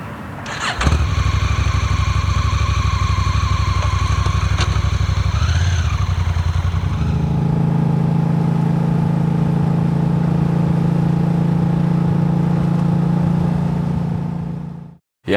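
A motorcycle engine close up while riding on an Arctic camping trip, a loud steady drone whose pitch dips and settles around seven seconds, then holds an even hum before cutting out at the end.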